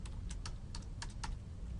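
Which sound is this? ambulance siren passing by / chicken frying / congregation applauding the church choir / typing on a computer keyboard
typing on a computer keyboard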